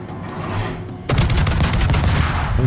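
Naval guns open fire from a warship in World of Warships, a sharp loud salvo followed by rapid repeated booming shots over a rumbling sea and engine backdrop.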